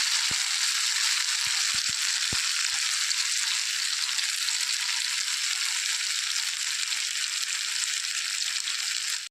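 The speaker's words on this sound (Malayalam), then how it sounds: "നമുക്കൊരു അഞ്ച് മിനിറ്റ് വരെ ഒന്ന് വെയിറ്റ് ചെയ്യാം നന്നായിട്ടൊന്ന് ഫ്രൈ ആയി വരട്ടെ" Snakehead (varal) fish pieces fry in hot oil in a pan, giving a steady, loud crackling sizzle that runs unbroken throughout with a few soft clicks early on.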